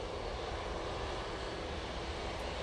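A Ryanair airliner bound for Dublin rolls down the full length of the runway, its engines producing a steady, dense roar that holds constant and fairly loud throughout, with no voices.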